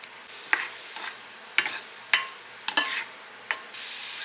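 Peppers and onions fry in a pan with a soft sizzle, broken by several sharp spatula scrapes and stirring knocks at an uneven pace.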